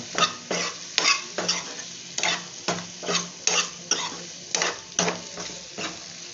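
Okra frying in oil in a pan is stirred with a utensil in a steady rhythm of about a dozen close, crisp scraping strokes over a soft continuous sizzle, with no talking.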